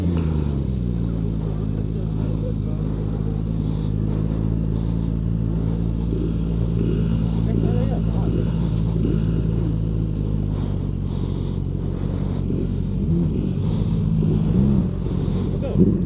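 A QJMOTOR SRK 450 motorcycle engine drones steadily on a test ride, holding a smooth tone with small pitch shifts and light rushing noise, loud and close throughout.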